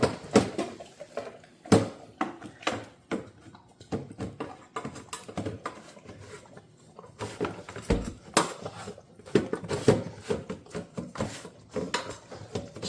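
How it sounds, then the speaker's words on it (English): A dog licks a Neater Feeder pet bowl on the floor, producing close irregular clacks, taps and wet lapping bursts that come and go without voices. "she's licking that bowl, and it's not sliding all over the floor."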